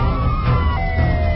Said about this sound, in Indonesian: sirine polisi bertautan.